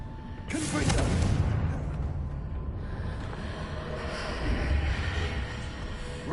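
A Confringo fire-blast spell in the Hogwarts Legacy video game bursts with a sudden whooshing boom that rumbles and fades, followed by lingering game ambience.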